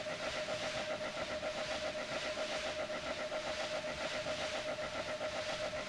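A strange-sounding engine in the role-playing game Tales of Legendia gives off a continuous pulsing mechanical drone with a steady whistle-like tone and hiss, loud and unbroken throughout.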